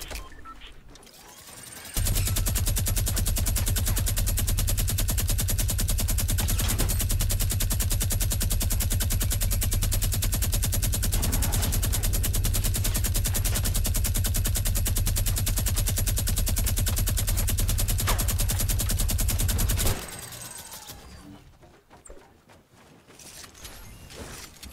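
Sustained automatic gunfire in Fortnite: Battle Royale, a dense, loud rattle of rapid shots running nonstop for about eighteen seconds, then cutting off abruptly to quieter game ambience.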